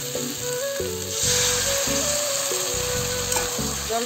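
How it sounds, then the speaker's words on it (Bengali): A little water goes into fried spices and chili powder in a pan for a Bengali taro stolon (kochur loti) curry, giving a loud steady sizzle with a faint background tone. "মশলাটা ভাজা হয়ে গেছে, এখন এই অল্প একটু জল দিয়ে ঢেকে দেবো"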